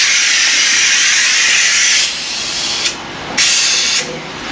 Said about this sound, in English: we're gonna let out the air slowly